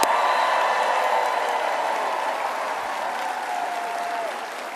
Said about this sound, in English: let's take a moment and give a grateful round of applause for our first responders and the folks who put themselves out there